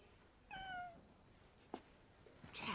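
A cat in a witch-school TV drama gives one clear, drawn-out meow, followed by a few soft clicks and rustles nearby, with no one talking.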